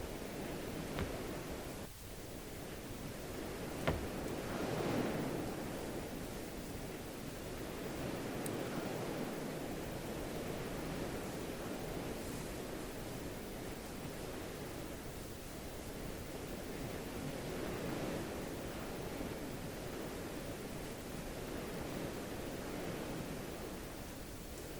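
Ocean waves in the video game Salt while sailing a boat, a steady loud rush of surf and washing water that continues without a break, with no talking.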